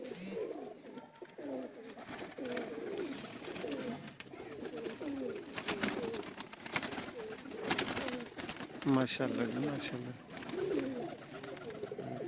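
Pet pigeons of the teddy and kamagar breeds give low, throaty cooing throughout, repeated and close by, while someone talks over them.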